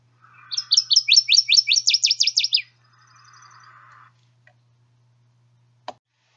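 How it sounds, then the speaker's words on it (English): A northern waterthrush sings a loud, rapid string of sharp chirps, speeding up over about two seconds, then trailing into softer, lower notes and a lone click. "Our northern water thrush says something along the lines of spit,"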